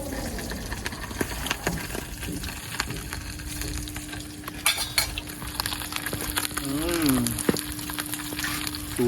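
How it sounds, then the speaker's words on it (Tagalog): Seafood sizzles and crackles in a frying pan during Batangas-style cooking, with steady spitting oil close by and occasional stirring clatter, a brief voice and a tonal hum in the background. "nagpiprito pa po si Kuya Bong"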